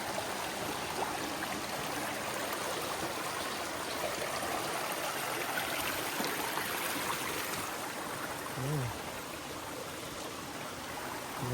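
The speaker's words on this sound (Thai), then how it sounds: "น้ำไหลแบบธรรมชาติมากๆเลยพี่" Continuous rushing and babbling of a stream flowing over rocks, steady and fairly close, with no voices.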